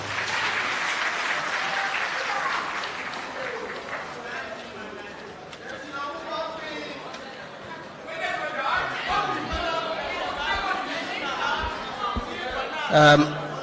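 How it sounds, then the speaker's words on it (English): Audience applause at a public forum on Ghana's voters register, moderate clapping mixed with crowd chatter and voices, fading and swelling over several seconds with a louder burst near the end. "Shall we give him a round of applause?"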